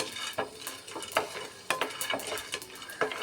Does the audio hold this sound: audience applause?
no